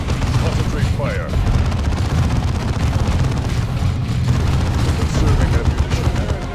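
Space Marine devastators open fire in Dawn of War II, a dense, continuous barrage of heavy gunfire and booms, loud and unbroken throughout.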